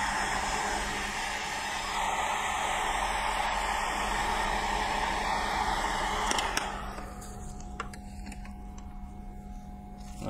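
Steady, loud blowing whoosh of a hair dryer drying a freshly coloured laser-cut coaster, held close and continuous before easing slightly toward the end, with no talk.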